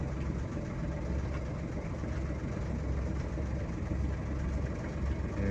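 A boat engine idles steadily after the throttle is backed off while still in forward gear, a continuous low rumbling drone close by and unchanging throughout.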